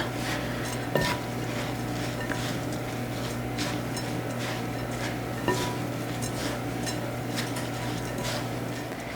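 Hands mixing zucchini oat muffin batter made with fresh milled flour and shredded zucchini in a bowl, soft steady squishing and stirring with a few faint clinks, over a constant low hum.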